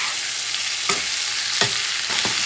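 Pork stew with tomato sauce sizzles steadily in a pot while a spoon stirs it, with a few distinct scraping strokes over the constant frying hiss.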